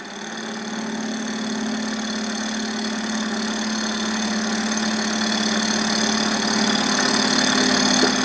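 A metal lathe runs steadily while turning a part for a small model finger engine, a continuous loud hum and whine that rises slightly, close by, with no talking.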